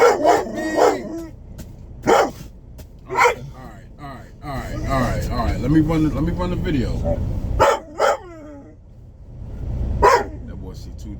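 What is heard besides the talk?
dogs barking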